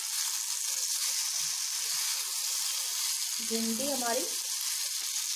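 Stuffed okra (bharwa bhindi) frying in a covered pan over low flame, a steady, even sizzle filling the whole clip, with a brief voice speaking over it.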